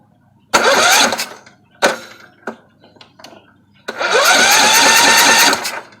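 Kohler Courage engine on a Husqvarna riding mower with a 46-inch deck, just after carburetor cleaning and valve adjustment, cranks and fires in short loud bursts, then settles into a steady, close running drone.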